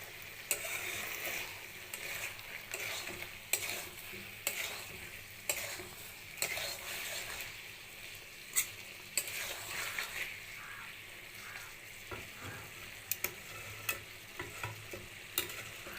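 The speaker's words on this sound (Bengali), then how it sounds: "আমি ঢাকাটা খুলে আবারও উল্টে দিচ্ছি" Chicken pieces and potatoes fry in their own released oil while a spatula stirs and flips them, producing a soft sizzle punctuated by repeated light clicks and scrapes against the pan.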